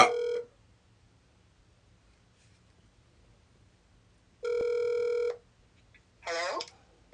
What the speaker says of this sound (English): It's about time that you picked up the damn phone, Barbara.